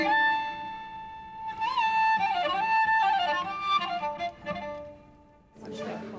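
A cello imitates the wata, a violin from Eritrea and Ethiopia, with sustained, whistle-like bowed notes and sliding ornaments, played close and moderately loud, a short break near the end before a final bowed phrase.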